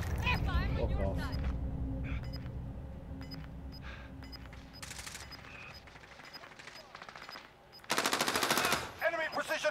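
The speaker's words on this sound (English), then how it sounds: "They're firing on your side!" Gunfire in a multiplayer video game, rapid machine-gun bursts and scattered shots, some close and loud and some distant, mixed with game voice chatter and battle noise.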